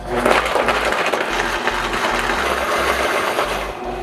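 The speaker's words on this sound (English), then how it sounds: "We're gonna turn the blender on and let it crisp up" A blender crushes frozen cauliflower and other frozen smoothie ingredients, giving a loud, steady grinding whir with gritty crunching that runs without a break the whole time, with no talking.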